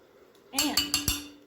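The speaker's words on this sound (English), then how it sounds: "Get all of this off of my spoon and into the skillet" A metal spoon knocks and scrapes against a skillet while chili mixture is pushed off it, giving three or four quick sharp clinks close by.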